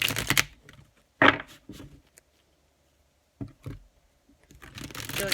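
Tarot cards being shuffled by hand, in a few quick crisp bursts of riffling separated by pauses, close and fairly loud.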